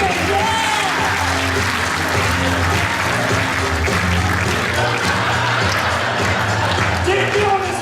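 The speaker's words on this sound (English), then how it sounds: "David, give David a big round of applause." Applause fills a comedy magic show in Springfield, Illinois: a steady, loud round of clapping from the audience, with voices talking over it.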